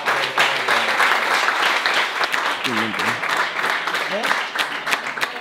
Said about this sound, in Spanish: le damos un fuerte aplauso a Bea y ya